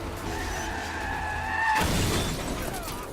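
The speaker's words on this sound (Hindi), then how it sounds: "जॉन वीगो की गाड़ी का पीछा करने लगा।" Car tyres skid and squeal during a film car chase, a loud sustained screech that swells into a harsh rushing burst midway, with no one talking.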